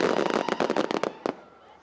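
Fireworks going off at a New Year's celebration, a rapid burst of close crackling bangs that thin out into a few final pops before fading to quiet.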